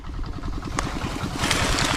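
Motor engine idling nearby with a steady, rhythmic low chug and faint clatter, plus a brief sharp click and a rise in background hiss toward the end.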